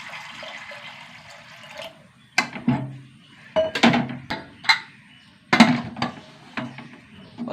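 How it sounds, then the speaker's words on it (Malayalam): Water pours into a cooking pot holding tomato, onion, three green chillies, turmeric powder and salt, with a low rushing splash, then several sharp clanks and splashy bursts close by, with no talk. "വെള്ളം ഒഴിച്ച് കൊടുക്കട്ടെ."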